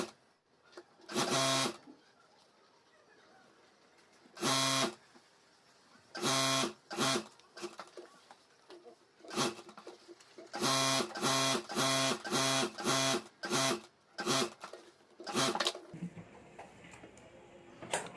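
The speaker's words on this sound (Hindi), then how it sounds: "तो यहाँ मैं चारों तरफ सिलाई कर देता हूँ।" A sewing machine stitching around fabric, rubber sheet and lining for a homemade school bag, in loud bursts of rapid whirring separated by pauses, with a run of short bursts in the middle.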